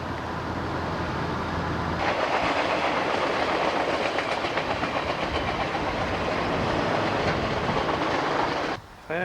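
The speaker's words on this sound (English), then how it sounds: "You can see that train's moving along pretty good." A train rolls along the tracks at about 65 near Klamath at sunset, a steady loud rumble with rhythmic clickety-clack of the wheels, cutting off briefly near the end.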